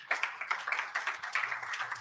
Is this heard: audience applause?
yes